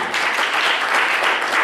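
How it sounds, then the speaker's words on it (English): A church congregation claps steadily in praise during a worship service, a dense, continuous wash of many hands close by and filling the room. "Now put your hands together and give God a hand clap of praise."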